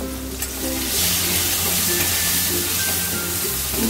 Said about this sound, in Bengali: একটু হলুদ আর কাঁচা লঙ্কা দিয়ে একটুখানি কয়েক সেকেন্ড আমি নেড়ে নিলাম